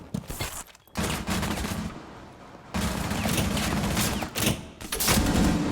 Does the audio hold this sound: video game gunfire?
yes